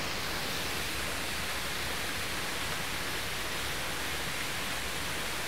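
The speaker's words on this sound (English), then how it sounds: "listening to waterfall is very calming" A small waterfall on condominium grounds gives off a steady, soft, even rush of falling water, continuous and unbroken with no voices.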